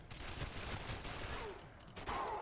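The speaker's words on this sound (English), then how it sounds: "I got a nice pistol kill." Rapid pistol gunfire in the video game GoldenEye 007 Reloaded, a dense run of shots over continuous game noise.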